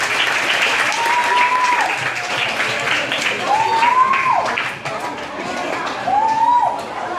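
An audience at a municipal school in Natal applauds a visiting professor with sustained, dense clapping that fills the room, and a few voices are faintly audible underneath.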